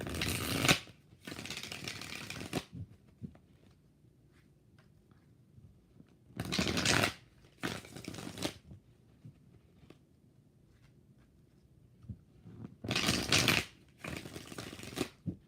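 Tarot cards are shuffled in three separate bursts, each a rapid riffling flutter lasting a couple of seconds, with quiet pauses between.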